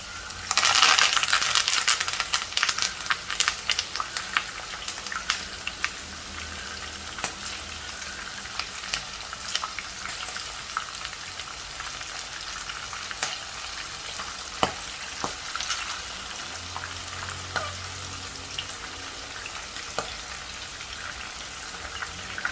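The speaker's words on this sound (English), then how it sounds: "While the chicken is frying, I'm going to put in 1 green chilli which I slit" Oil sizzles and crackles steadily as chicken fries for Chicken 65, a dense hiss with scattered pops, loud and close, with no voices.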